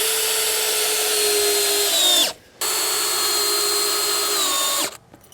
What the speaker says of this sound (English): we're attaching this with these large 3/8 GRKs in the side of our columns